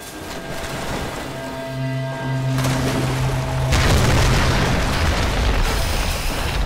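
An explosion from something set on fire in Tomb Raider: Definitive Edition, a deep rumbling boom that swells and rolls on with crackling, rain-like debris noise over several seconds, loud and close.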